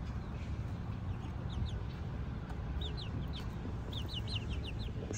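Several chickens cluck in short, scattered bursts over a steady background hum, with a few quick calls clustered near the end.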